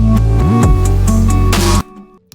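Part of a beat with a reversed melody and an EQ'd 808 pattern working as a rising effect, a loud bass line with a swooping pitch bend under bright hits that builds, then cuts off sharply into near silence.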